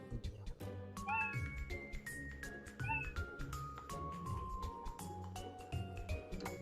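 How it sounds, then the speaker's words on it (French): A cat meow sound effect played back in mBlock 5 repeats several times in a row as clear close meows, with a faint voice underneath. "des petits chats qui miaou."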